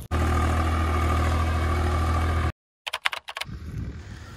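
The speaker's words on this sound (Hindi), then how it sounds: "ये स्वराज 735 चल रहा है" A Swaraj 735 tractor engine runs with a steady, loud low diesel drone for a couple of seconds, then cuts out abruptly, followed by a few sharp mechanical clicks and faint background noise.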